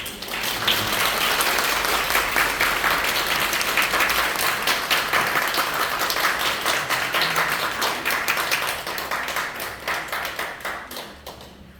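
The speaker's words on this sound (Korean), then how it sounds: "다시 한번 감사의 박수 부탁드립니다" Audience applause after a lecture on modern European church architecture, a sustained, fairly loud round of clapping from a roomful of people lasting the whole stretch before tapering off at the end.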